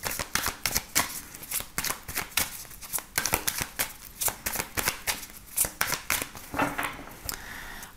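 Tarot cards are shuffled by hand in a steady run of crisp, rapid riffling clicks, close and fairly loud, continuing without pause.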